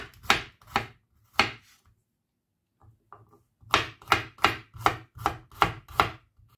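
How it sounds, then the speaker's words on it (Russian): A knife chops 4-5 garlic cloves on a cutting board in quick bursts of sharp knocks, a short pause, then a faster run of steady chops close by. "4-5 зубчиков чеснока режем"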